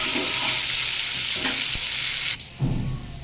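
Taro frying in a pan with a steady bright sizzle and occasional scraping stirs, close by. The sizzle cuts out briefly, then a stir brings it back.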